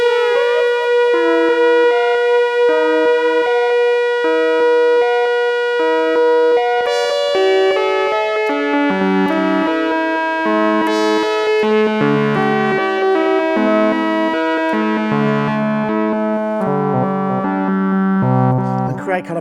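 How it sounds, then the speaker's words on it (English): Dreadbox Erebus analog synthesizer in square wave mode plays a bright, buzzy melodic line with rich harmonics, steady and loud, with notes stepping and shifting through a short phrase alone. "I can switch it into square wave mode."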